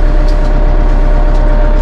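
A Massey Ferguson 2850M compact utility tractor engine, power shuttle cab model, revving up with the PTO engaged: a loud, steady mechanical drone with a dense low rumble, continuous and close throughout.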